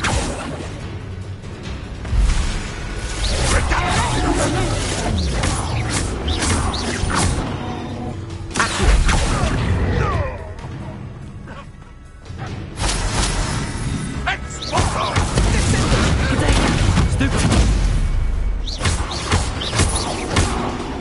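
Bombarda explosion spells and other combat magic in the Hogwarts Legacy game, with repeated bursts, whooshes and crashing impacts in uneven clusters, loud and close, mixed with shouted spell names and talking.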